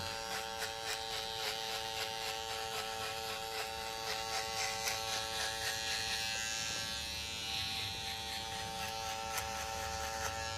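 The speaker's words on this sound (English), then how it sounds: "Love the sound of the clippers, man." A steady, close buzz of electric hair clippers runs throughout, even and unbroken, with slight shifts in tone as they move.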